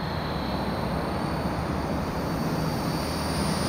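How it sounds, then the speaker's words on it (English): An Eachine T-28 Trojan RC plane flies overhead with a constant, dense whirring motor drone and steady high whine, loud and unbroken throughout. "This is such a nice wee plane to fly."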